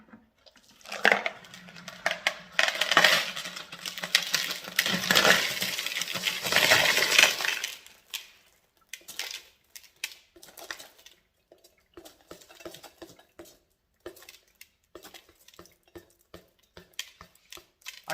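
Polished tumbled rocks being rinsed after three days in a tumbler, with a loud rush of water and rattling stones for several seconds, then sparse clinking and clacking as individual rocks knock together.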